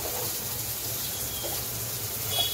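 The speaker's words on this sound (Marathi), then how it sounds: "बस एवढं पाणी टाकलेलं आहे" Water pours into a cooking pot of crabs, a steady, close splashing gush that runs without a break.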